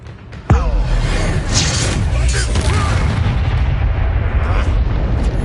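Bombarda blasting spell going off in Hogwarts Legacy, a sudden loud boom followed by a long rumbling roar of debris and effects, with a faint voice under it.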